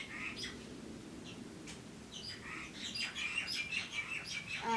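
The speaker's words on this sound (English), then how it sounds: "And the birds are doing their absolute best to be a menace at the moment." Birds chirp and tweet repeatedly outdoors, fairly faint, over a steady background of outdoor noise.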